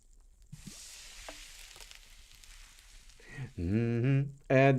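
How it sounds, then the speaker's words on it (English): Broth poured into a hot pan sizzles as a steady, soft hiss for about three seconds, then a voice takes over and drowns it out. "Add the broth to the pan."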